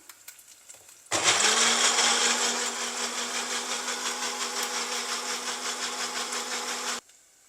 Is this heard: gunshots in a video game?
no